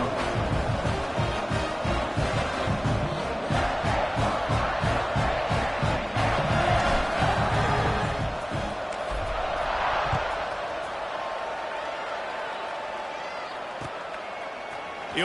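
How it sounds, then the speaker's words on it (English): Stadium crowd roaring in College Football 26 during a Middle Tennessee at Maryland game, a loud sustained wall of cheering that swells then eases slightly, with a commentator talking over it. "They're set to kick it off, and this crowd now ready to get behind them."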